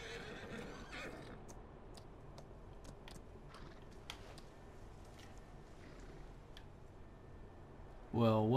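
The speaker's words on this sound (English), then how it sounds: "I am going to do this boring horse ride around here" A horse ridden in Farming Simulator 19 on the Felsbrunn map on PS4. Soft, scattered hoof clicks sound faintly, then a loud, close whinny bursts out at the very end.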